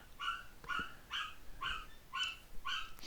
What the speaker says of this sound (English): you may hear the dog in the background